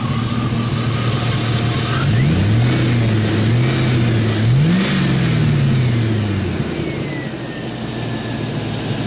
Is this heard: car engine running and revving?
yes